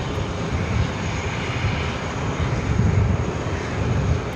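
A Boeing 777-300ER jet takes off from runway 13 right at JFK airport in New York, a steady, broad engine roar that swells slightly toward the end, heard alone without talk.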